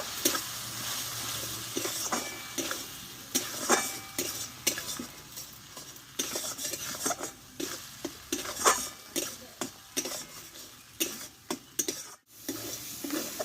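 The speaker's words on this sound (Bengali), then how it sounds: "আর দেবো এখানে একটু জিরি গুঁড়ো আর হাফ চামচ মতো ধনে গুঁড়ো দিয়ে মশলাটা ভালোভাবে একটু কষে নেব" Cumin and coriander powder masala is sautéed in a pan for a Bengali vegetarian eggplant dish. A spoon stirs and scrapes the pan repeatedly over a soft, continuous sizzle at a fairly quiet level.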